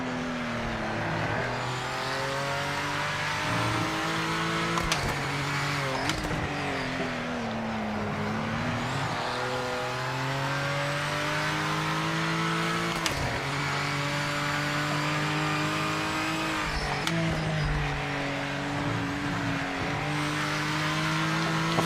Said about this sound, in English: Such a perfect race car.